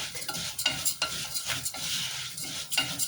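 Spoon stirring orzo pasta (lisan al-asfour) being toasted in a pot, soft repeated scraping strokes with light sizzling underneath, close and steady, no voices.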